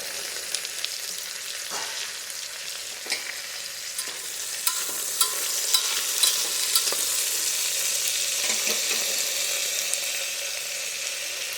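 Broad beans cooking with tomato and coriander in a pan, a bright steady sizzle with scattered scraping stirs and light clicks of the spoon, close and without speech.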